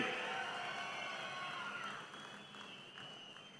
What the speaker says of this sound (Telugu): అవును అంటే గట్టిగా చప్పట్లు కొట్టి అభినందించండి ప్రధానమంత్రి గారిని